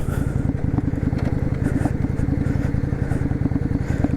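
A Yamaha V Star 650 Classic rumbles along in first gear, its V-twin engine thumping in a fast, steady pulse that stays loud and close throughout.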